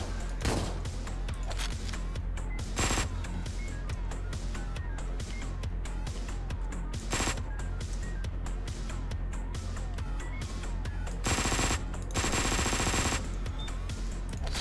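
Relentless gunfire in the video game Hotline Miami 2: Wrong Number, loud and nearly continuous, with rapid bursts packed back to back and a few sharper blasts punching through the steady barrage.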